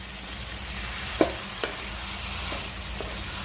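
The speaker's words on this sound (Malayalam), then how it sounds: "ഇനി ഒന്ന് നന്നായിട്ടൊന്ന് തിളയ്ക്കണം" Dried mango pickle bubbles and sizzles steadily in a pan on the stove, a close, even crackle broken by a few sharp stirring clicks.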